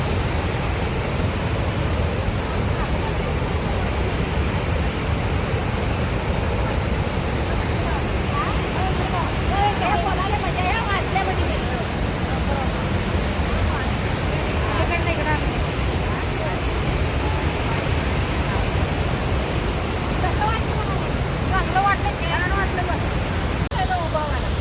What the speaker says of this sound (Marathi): धबधब्यावर, धुवाधार धबधबा.